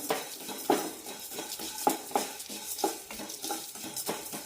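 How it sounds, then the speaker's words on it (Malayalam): Fennel seeds with a pinch of shahi jeera dry roasting in a hot pan while a spoon stirs them continuously, giving repeated scraping and clinking strokes at an irregular pace, close and fairly loud, with no one talking. "ഒരു മിനിറ്റ് നന്നായി റോസ്റ്റ് ചെയ്തെടുത്താൽ മതി നന്നായി ചൂടായി കിട്ടും കൈവിടാതെ ഇളക്കിക്കൊണ്ടിരിക്കണം"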